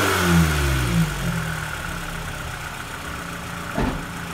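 A Toyota Celica engine revs up as the throttle opens, the pitch sweeping and then settling into a steady idle-like hum, close and clear, with a brief knock near the end.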